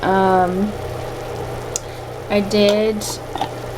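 Ground beef with peppers and onions fries in a pan for lasagna, a low steady sizzle running under a voice, which comes in short bursts at the start and near the end.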